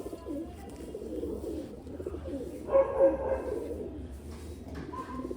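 Low pigeons cooing softly nearby, a few rolling coos with a slightly louder swell in the middle, over faint background noise.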